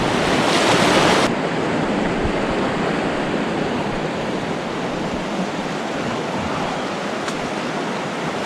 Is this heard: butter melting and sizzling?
no